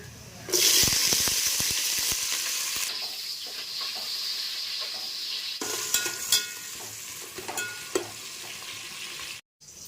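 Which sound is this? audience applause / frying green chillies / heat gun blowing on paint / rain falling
frying green chillies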